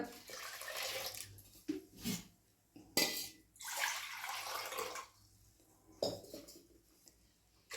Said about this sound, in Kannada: ಈ ಕುಕ್ಕರ್ಗೆ ಹಾಕ್ತೀನಿ ಈಗ ಏನೈತಿ ಇದಕ್ಕೆ ಇದರಲ್ಲಿ ಒಂದೆರಡು ಇದರಷ್ಟು ನೀರು ಹಾಕ್ತೀನಿ